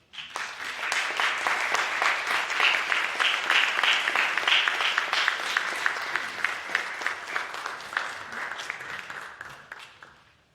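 Audience applause after a talk on enslavement at Windsor: a steady, even wash of many hands clapping that holds for about ten seconds, then thins and fades out at the end.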